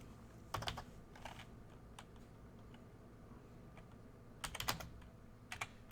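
Faint, quiet keyboard typing during a computer science lesson, with a few short bursts of clicking keys separated by pauses over a low steady room hum.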